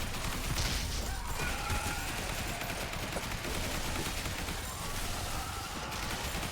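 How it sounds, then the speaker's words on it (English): An assault rifle fires in the zombie survival video game Yet Another Zombie Survivors, a dense, continuous rattle of rapid shots mixed with crashing impacts that runs steadily and loudly for the whole stretch. "This is the assault rifle."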